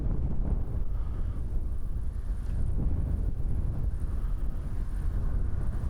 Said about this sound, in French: ce vent qui est parfait, je sais pas si vous m'entendez bien